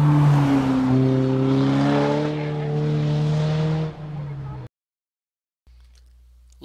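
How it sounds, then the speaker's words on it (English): A Polaris Slingshot's tires give a sustained, tonal squeal with a steady engine note as it takes a corner, lasting several seconds. The sound cuts abruptly to silence. "You can probably hear my tire squealing a bit around this corner."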